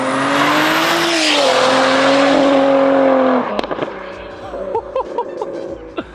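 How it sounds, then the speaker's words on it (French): A 1000 hp BMW M140i accelerates hard, its loud engine note climbing under a strong rushing turbo whoosh for about three seconds, then cutting off abruptly into quieter engine burble with voices talking over it. "T'entends vraiment que le souffle du turbo"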